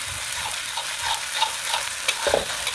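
Ground chili and sauce sizzle steadily in hot oil in a wok as they are stir-fried with the earlier sautéed ingredients for soy sauce chicken, with a few scraping stirs near the end, close and unbroken.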